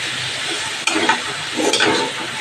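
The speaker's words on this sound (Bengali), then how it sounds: "এই গুঁড়ো মশলার বাটিটা ধুয়ে একটু জল দিয়ে দিলাম।" Water poured into ground spices frying in a pan while cooking pumpkin greens with fish oil, a loud steady sizzle that flares with bursts of hissing as the liquid hits the hot oil.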